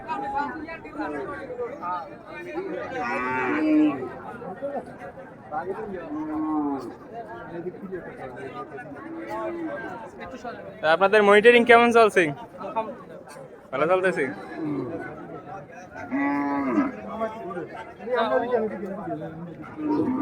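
At a Bangladeshi cattle market before Eid al-Adha, cows low occasionally amid steady crowd chatter and someone talking, with one louder, stretched moo near the middle of the stretch.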